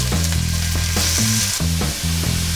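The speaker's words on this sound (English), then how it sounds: "oil in the pan. Onions in the oil." Onions sautéing in oil in a pan, a loud continuous sizzle overlaid by a rhythmic droning musical pattern, no speech.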